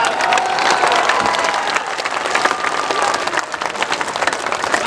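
A large crowd at a political rally for Rajnath Singh in the Barh assembly constituency applauds loudly, with sustained clapping and a murmur of voices that thins out toward the end.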